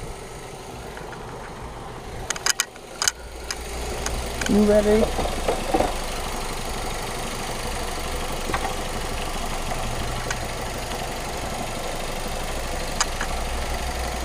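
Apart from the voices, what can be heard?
car engine idling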